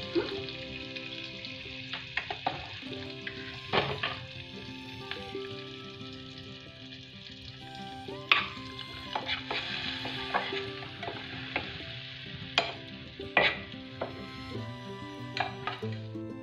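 Red chilies fry in butter and ghee for a coriander rice dish, with a constant close sizzle broken by sharp clinks and scrapes of a spoon against the pan as it is stirred.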